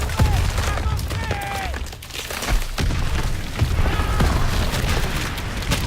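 Artillery shells explode in a Call of Duty WWII battle: deep booms and rumbling blasts layer with rattling gunfire in a loud, dense barrage, while voices call out over the chaos.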